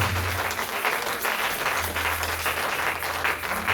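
A church congregation applauding to acclaim Jesus during a sermon, dense sustained clapping from many hands filling the room, loud and continuous throughout with a low hum underneath.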